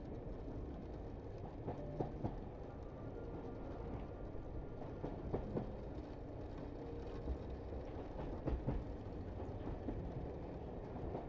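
A night train rolls steadily along the railway, a soft, even rumble of wheels on track with faint intermittent clicks, distant and muted throughout.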